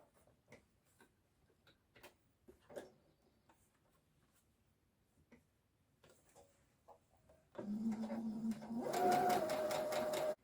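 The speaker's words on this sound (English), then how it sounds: "now I'm going to turn it again to get the second run through the machine" Sewing machine stitching a narrow hem in floaty fabric: quiet ticking and handling clicks first, then a close, steady motor hum with rapid needle chatter for about three seconds.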